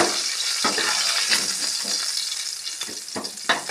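Cumin seeds and dry red chillies crackle and sizzle in hot oil in a kitchen, making a steady frying hiss with a few sharp pops, close and fairly loud, with no one talking.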